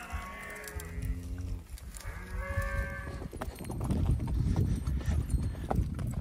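Cattle moo in long, low calls over rustling and hoof clops, with livestock moving nearby in an open outdoor setting.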